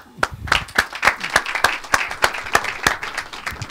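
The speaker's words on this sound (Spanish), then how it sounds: "Muchas gracias, Josep. Un aplauso." Audience applause after a talk at a design event, a small group clapping in a clear, fairly regular rhythm of distinct sharp claps close to the microphone for a few seconds.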